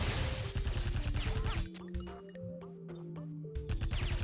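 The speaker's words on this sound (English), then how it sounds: "I can't just jump through a window without smashing it" Glass smashes in the video game Iji, a burst of breaking sound over steady electronic game music, followed by the music carrying on alone.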